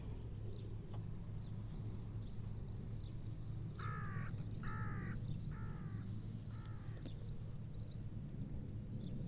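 A crow caws four times in a row, fairly distant and faint, over a steady low background hum of outdoor ambience.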